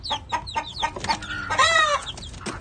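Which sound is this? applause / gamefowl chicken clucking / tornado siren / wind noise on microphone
gamefowl chicken clucking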